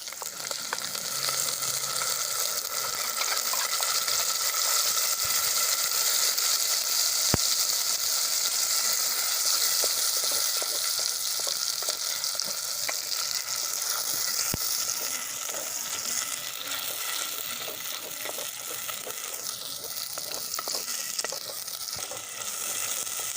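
A steady, loud sizzle of onion and tomato gravy frying with ginger garlic paste in a pan, with faint stirring scrapes throughout and no talk.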